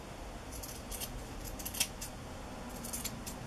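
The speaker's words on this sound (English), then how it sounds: "I grabbed scissors, but that's because it was slanted, so I just evened up the top" Scissors snip across the slanted top edge of a fabric pocket on a handmade journal, producing a few faint, close crisp cuts in a quiet room with no talking.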